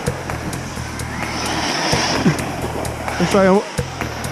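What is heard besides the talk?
ARRMA Mojave EXB RC car, Hobbywing MAX8 ESC, 2200kv motor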